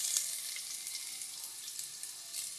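Chopped garlic and ginger frying in a pan make a soft, steady sizzle with a fine high hiss that stays faint and even throughout, with no voices.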